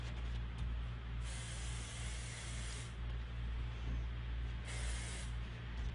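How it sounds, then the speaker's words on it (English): Hairspray hisses onto styled hair in short, soft aerosol bursts with brief pauses, steady and close, with no talking. "Now I'm gonna lightly spray the hair"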